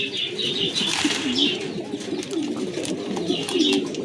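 A pair of Giant Runt pigeons coo steadily and close by in soft low rolling calls, with light chirps and a faint rustle of wings mixed in.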